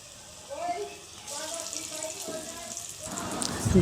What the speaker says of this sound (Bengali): তো এই যে ধোকাগুলো ভাজা হয়ে গেছে, এবার আর কটা আছে সেই কটাও ভেজে নেবো।